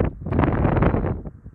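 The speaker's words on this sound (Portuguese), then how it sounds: "Isto mete medo voar com este vento" Strong wind buffets the microphone in heavy, uneven gusts while a DJI Mavic Pro drone is flown outdoors, loud and close, easing briefly near the end, with no speech.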